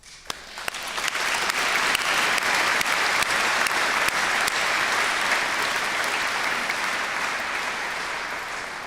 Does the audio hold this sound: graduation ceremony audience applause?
yes